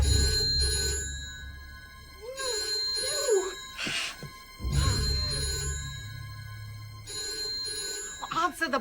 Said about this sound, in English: Answer the bloody phone.